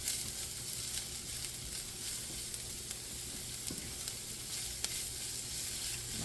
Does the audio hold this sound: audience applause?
no